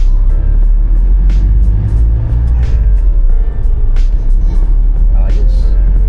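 A 2015 Isuzu Crosswind on a test drive gives a loud, steady low engine and road rumble from inside the cabin, with someone speaking briefly over it.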